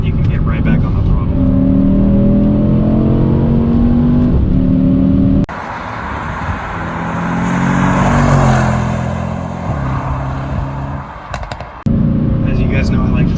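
A 2021 Mercedes E63s AMG wagon engine pulls hard under throttle, the loud revving tone rising through gears with shift breaks and a roar of road noise, heard close up from inside the car.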